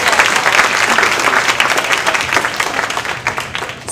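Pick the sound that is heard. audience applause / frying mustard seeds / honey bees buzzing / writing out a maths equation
audience applause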